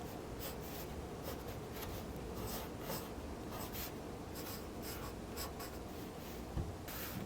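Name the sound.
pencil drawing a teenager's jaw on paper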